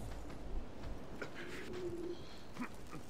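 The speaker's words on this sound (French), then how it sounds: "Sympa, les oiseaux, là." Soft cooing of birds, like pigeons or doves, in the video game Castlevania Lords of Shadow, a few faint calls over a quiet, low ambient background.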